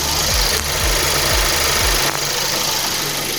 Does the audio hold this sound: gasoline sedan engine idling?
yes